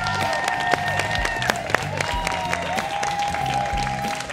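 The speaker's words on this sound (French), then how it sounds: "Mesdames et messieurs, on l'applaudit!" Audience applause at a French-language show, continuous clapping with a few sharp louder claps standing out over a sustained musical tone and low background sound.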